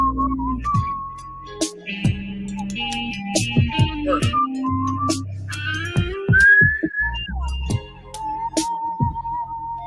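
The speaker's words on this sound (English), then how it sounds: "Whistling." Someone whistles a loose, wandering tune late at night. The notes are close and clear, with short glides and staccato chirps over a low electronic hum, and no speech.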